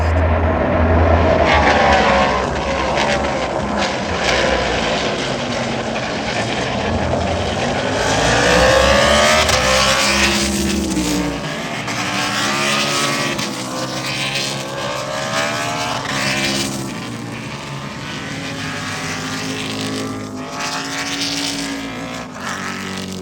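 Trans Am Speedtour race cars roar past at Road America, loud, sustained engine howls that rise and fall as several cars pass close by one after another.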